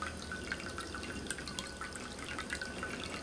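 Water trickling and dripping steadily in a handmade ceramic cat drinking fountain with a quiet pump, a soft continuous splashing close by.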